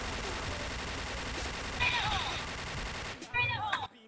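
Rapid gunfire from the video game Point Blank rattles continuously and loudly, with game effects layered over it, and a short burst near the end before it cuts off.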